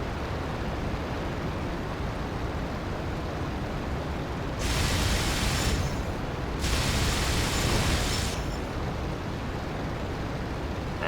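Two long bursts of 20mm cannon fire shooting down a Stuka in the IL-2 Battle of Stalingrad flight game, each a roaring blast over a steady engine drone, with a short gap between them.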